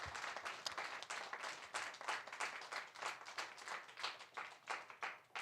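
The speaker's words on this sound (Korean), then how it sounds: "우리 박수 한번 치십시다" A church congregation claps together for several seconds, a dense, fairly faint patter of hands with uneven surges.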